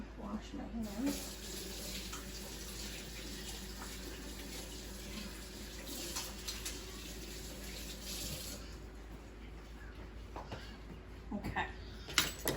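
A kitchen tap runs steadily while hands are washed under it during apple fritter preparation, a continuous close splashing hiss that holds for the full stretch with small shifts where the hands move through the stream.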